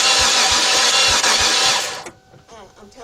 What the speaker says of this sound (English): let's crank this engine and see what we got